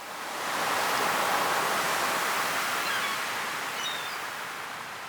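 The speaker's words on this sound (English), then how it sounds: "Just enjoying the sound of the ocean." Ocean waves in the farming game Stardew Valley give a steady broadband rushing hiss that swells gently and then eases slightly, continuous and fairly loud.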